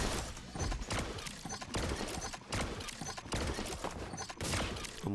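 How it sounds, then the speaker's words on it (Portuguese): Rapid bursts of gunfire from the mobile fighting game Flash Party, loud and continuous with repeated sharp cracks in a busy clattering rhythm, no talking. "Toma um tiro, toma outro tiro, toma outro tiro, toma outro tiro."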